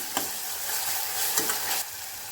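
Green chilli and ginger garlic paste sizzle and fry in hot oil while being stirred, a steady hiss with a few sharp crackles and spatula scrapes, close and with no talking.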